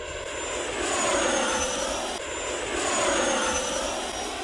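A Freewing Venom 90mm EDF radio-controlled jet roars at full throttle, a loud rushing whine that swells and fades twice as it makes fast passes overhead.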